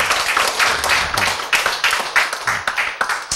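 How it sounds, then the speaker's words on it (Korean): A small church audience claps in a dense, uneven patter of hands, fairly close and lively, with a few voices mixed in during a sermon. "이쯤 되면 여러분이 박수가 나와야 되는데."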